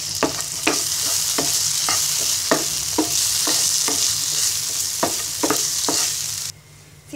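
Chopped onion with soy sauce and tomato frying in a pan, a constant close sizzle broken by regular spatula scrapes and clacks, the sizzle dropping away abruptly near the end, with no talking.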